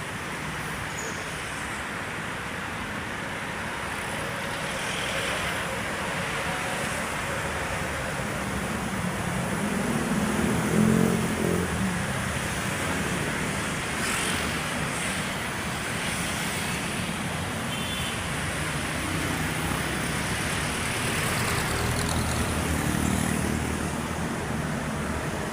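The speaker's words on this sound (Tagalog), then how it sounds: "Meron mga milyong sasakyan ang dumadaan dito araw-araw." Road traffic on a west service road in Alabang, a continuous distant wash of passing cars and motorcycles that swells and fades now and then, with no talk.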